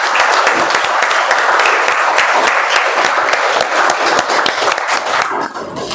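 Loud, dense applause from a Toastmasters club audience at an international speech contest meeting, a sustained close wash of many hands clapping that thins out near the end.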